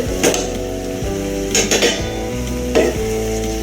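Soya chunks stirred into a frying pan in a Tamil-style meal maker gravy, with a steady sizzle under three distinct metal spoon scrapes and clanks against the pan, close and fairly loud.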